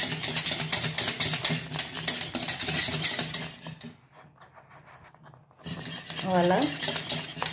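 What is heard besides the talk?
stirring a mixture in a pan while cooking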